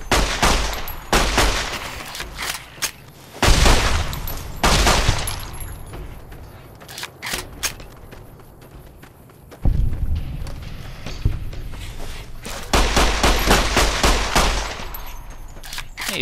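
Bursts of gunfire in Fallout New Vegas, rapid volleys and single shots coming in loud waves with short lulls between them, with footstep-like clatter in the quieter gaps.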